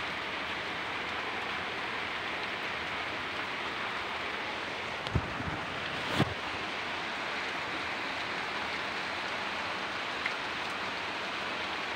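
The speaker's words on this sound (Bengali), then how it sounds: "দেখো পাতায় টুপি টুপি জলগুলো পড়ছে" Water drips steadily from tree leaves as rain eases off, a soft continuous patter with a couple of sharper drops standing out, and no talking.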